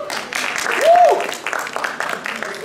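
Audience applause fills a stand-up comedy club during a Kazakh-language set, a broad steady wash of clapping that swells midway, with a voice rising briefly over it.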